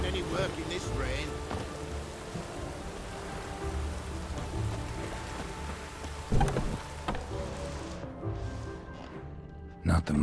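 Steady rain pours down in The Witcher 3: Wild Hunt, a dense broadband hiss running throughout with a few brief knocks and movement sounds, easing near the end; in-game voices speak over it.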